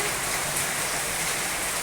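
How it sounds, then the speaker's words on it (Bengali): Heavy rain falling steadily, a dense continuous hiss without breaks, moderately loud and even throughout. "প্রচুর পরিমাণে বৃষ্টি হচ্ছে"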